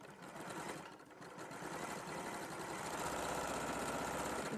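A sewing machine stitching quilt block pieces together whirs faintly and steadily, its rapid needle rhythm continuous and growing a little stronger toward the end.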